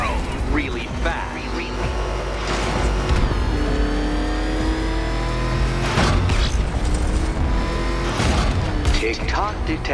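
The Batmobile's engine roars and revs during a race in a Batman video game, loud and close, with rising surges, booms and crashes over a continuous motor drone, while voices talk over it.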